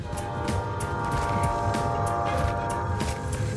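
A train passing in the video game Warzone, a steady, continuous rumble with a droning mechanical tone and faint rhythmic clacks, fairly close and without talk.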